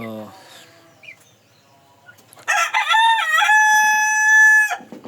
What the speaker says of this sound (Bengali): মোরগটা বেশ ভালোই ডাকাডাকি শুরু করছে।